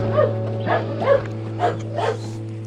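A dog barks in several short bursts, moderately close, over a constant low hum.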